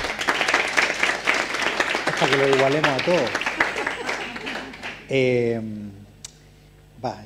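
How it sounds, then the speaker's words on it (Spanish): An audience at a church gathering on prison ministry claps in a dense burst while people talk over it, and speech takes over as the clapping fades. "Un aplauso también para Romano, ¿no?"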